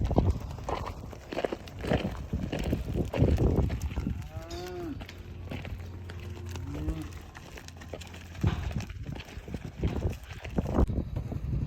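Charolais Brahman cross steers on a farm, several low moos and bellows from nearby cattle amid shuffling hooves and footsteps, with scattered knocks and rustling throughout.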